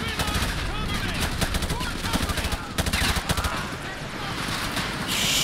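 Dense automatic gunfire rattles nearly nonstop in Call of Duty Modern Warfare 2's Washington Under Siege battle, loud and close with rapid bursts, and voices speak faintly beneath the shooting.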